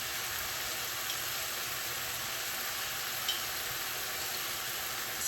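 Ground meat browns for mapo tofu in a hot pan, giving a steady, dense sizzle and fry with no pauses, close and even in level throughout, with no voices over it.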